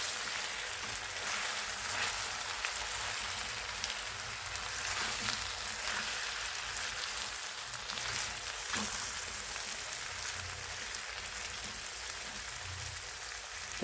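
Sweet potato bhaji cooking in a pan on a gas stove, a steady broadband sizzle and hiss running evenly throughout with faint low clatter, no talking.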